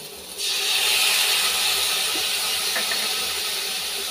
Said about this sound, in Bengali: এখন দিয়ে দেবো মশলাটা, জিরে, আদা আর লঙ্কা